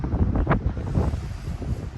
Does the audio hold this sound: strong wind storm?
yes